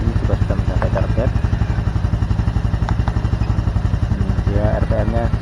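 A Honda Supra X 125 Fi motorcycle engine idles steadily close by during routine maintenance, a fast even putter with light mechanical clatter, while someone talks over it.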